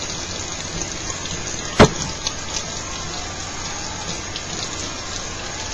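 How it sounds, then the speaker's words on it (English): Running water streams steadily over hair bundles being rinsed, a constant rain-like wash with one sharp knock early on and a few soft taps. "as you rinse that off or whatever, shampoo, lather that hair up"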